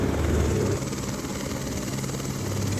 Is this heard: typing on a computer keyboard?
no